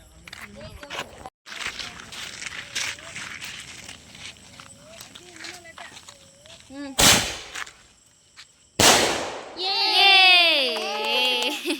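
Two loud, sharp firecracker bangs go off a couple of seconds apart during a Vishu celebration, each a sudden close blast standing out over ongoing chatter from adults and children.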